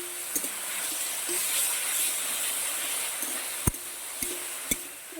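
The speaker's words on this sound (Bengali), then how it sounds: "এই যে পেঁয়াজ আর টমেটো একটু তেলের পর আমি ভেজে নিচ্ছি" Onion and tomato frying in oil give a constant, even sizzling hiss that runs throughout. A few sharp clicks and knocks break in now and then, and nobody speaks.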